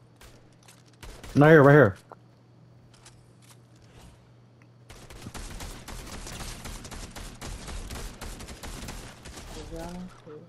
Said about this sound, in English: where's the other shots coming from?